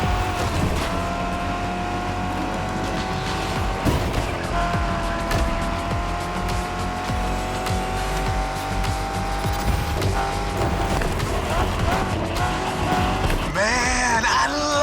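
A muscle car engine roars hard through a race in The Crew Motorfest, with a steady loud drone, rising and falling revs and tire noise, all under continuous music.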